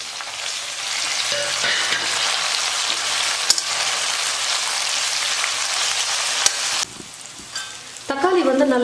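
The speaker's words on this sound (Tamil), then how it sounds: "அதை சேர்த்து நல்லா வதக்கிக்கிறேன்." Chopped tomato sautéing with onions in a hot pan, giving a loud, steady sizzle with occasional stirring scrapes that drops away briefly near the end before returning.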